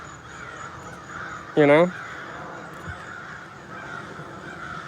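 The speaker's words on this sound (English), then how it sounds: "Yeah, they're crows." One loud crow gives a single harsh caw close by outdoors while someone talks during a walk, with steady outdoor hum and a brief faint knock afterward.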